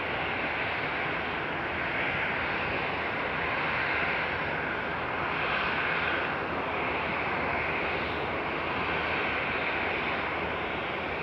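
Continuous roar and hiss of an airliner engine idling at night at Frankfurt Airport, steady and loud with slow swells in the high whine.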